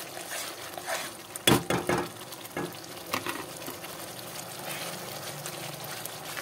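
A spoon stirs a sweet mixture with ghee in a pan, making soft scraping and a few sharper clinks against the metal over a faint, steady sizzle, quiet and close.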